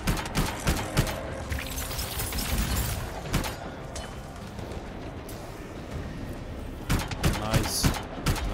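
Repeated gunfire bursts in the video game Anthem, dense and crackling throughout with louder volleys near the start and end, layered over game effects and voices talking.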